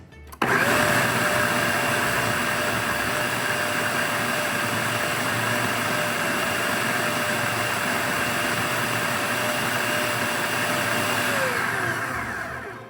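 Countertop blender puréeing white beans with lemon juice into a smooth cream, a loud steady motor whir running continuously for about twelve seconds before winding down, with no talking.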